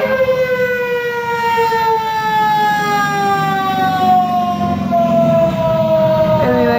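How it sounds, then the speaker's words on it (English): A fire truck siren wails loud and close, its rising and falling tone sweeping steadily over a rumbling engine, with no talk. "There's a fire truck."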